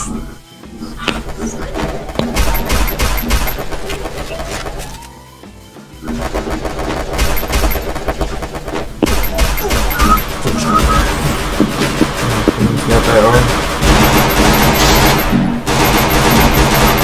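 A P90 firing in the Free Fire mobile game, heard as near-constant rapid automatic gunfire with crashes and game effects, loud and dense throughout, with a brief lull partway through and talk mixed in.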